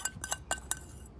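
A spoon clinks and scrapes against a dish while pesto is being gathered up, giving several light, bright metallic taps and scrapes spaced irregularly, close and fairly quiet, with no talking.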